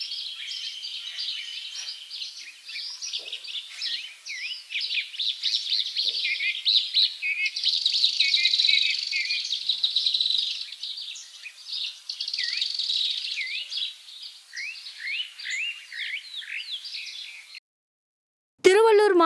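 Flocks of migratory foreign birds at a bird sanctuary chirp and call continuously, a dense overlapping chorus of high tweets at moderate volume, ending with a brief abrupt cut.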